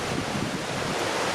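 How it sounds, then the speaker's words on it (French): Steady outdoor wind blowing over a rushing river, a continuous broadband roar close to the microphone with no voices or breaks. "entre le vent et le bruit de la rivière"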